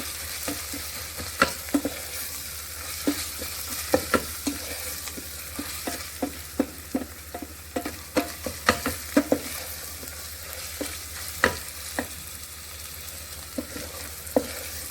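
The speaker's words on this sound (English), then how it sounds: "I will stir it to get the raw smell out." Spices fry in oil for chana masala, a soft steady sizzle broken by frequent crisp taps and scrapes of a spoon stirring against the pan, close and without talk.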